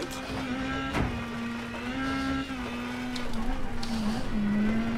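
A WRC 10 rally car on a Finnish stage drones with a steady engine note that rises and dips as it slides through corners, constant and close, with faint tyre and gravel noise.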